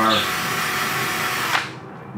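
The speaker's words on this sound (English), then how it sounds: "Now with our 1/8" bit, we're going to drill and rivet to secure that" Power drill boring a rivet hole with a 1/8 inch bit during a Sleekline Yamaha windshield installation, a loud high whine running steadily for about a second and a half before cutting off.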